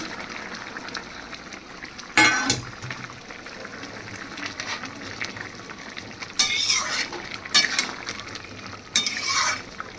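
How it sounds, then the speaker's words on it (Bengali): Fried fritters dropped into an ash gourd curry in a cooking pot and stirred, a low simmering bubble broken by several loud scraping bursts of a spoon against the pot, close up, no voices. "আর দেখো দিয়ে দিচ্ছি আমি এর মধ্যে বড়াগুলো।"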